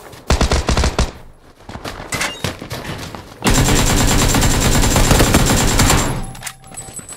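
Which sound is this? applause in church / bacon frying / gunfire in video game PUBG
gunfire in video game PUBG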